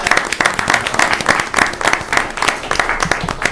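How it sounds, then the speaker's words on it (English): An audience at a village board meeting claps in a quick, fairly even patter. The applause is close and lively, with a few voices faintly mixed in. "Round of applause."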